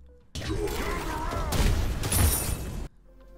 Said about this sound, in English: There isn't much of a sound effect pre-explosion, but the explosion itself sounds really good.